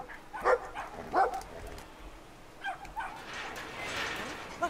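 A small dog barking in the video game Brothers: A Tale of Two Sons, a few short yips and bow-wows at moderate distance over a soft game ambience.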